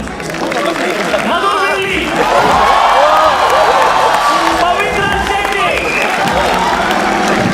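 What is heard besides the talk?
audience applauding for team 2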